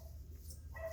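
Two small dogs in a backyard give a brief, soft bark or yip, faint and somewhat distant, over a low background hum.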